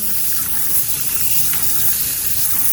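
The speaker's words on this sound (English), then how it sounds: "So we're starting off with the water nice and warm." Warm water runs steadily from a filtered nozzle in a loud, close, continuous hiss and gush that holds without a break.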